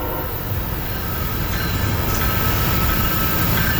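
A CSX manifest freight train rolls past, a steady broadband roar of wheels and railcars that holds constant throughout, with faint hints of wheel squeal and no voices.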